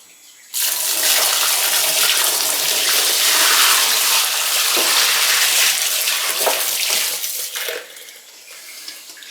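Nanking cherry juice pours steadily into a wine-making vessel, a broad continuous gush of liquid running for several seconds after a sudden start, then tapering off near the end.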